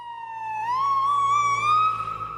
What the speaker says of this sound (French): Vous avez tous entendu le changement de tonalité d'une ambulance quand elle se rapproche ou elle s'éloigne.